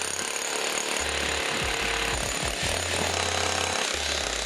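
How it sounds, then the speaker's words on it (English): A rotary hammer drills holes into a concrete home garage floor for lift posts, giving a loud, continuous hammering rattle that stops and restarts in a few short bursts before running steadily again. "drill the holes for the other post, just in the interest of time, so I can get this rotary hammer back to Home Depot"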